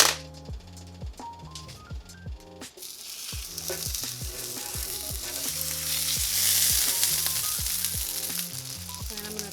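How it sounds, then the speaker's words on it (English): Onions sear in a hot pan on a stovetop, a loud rising sizzle under a plucked tune with sharp clinks and knocks as they are laid in, nearby and continuous. "I'm gonna go ahead and sear off my onions"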